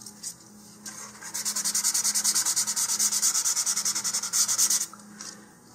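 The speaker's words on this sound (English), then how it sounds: "As I get ready to put the sustainer fins on, I'm going to go ahead and roughen up the tube again," Sandpaper roughens a cardboard model rocket body tube in quick, even back-and-forth strokes, close and steady for several seconds with no voices.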